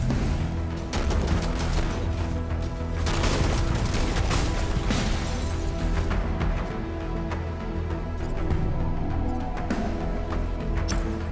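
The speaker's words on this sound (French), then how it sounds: "Je me mets à lui tirer dessus depuis ici" Rapid bursts of gunfire and booming impacts fill a mech combat battle in the video game Phantom Brigade, dense and continuous with rattling automatic fire throughout.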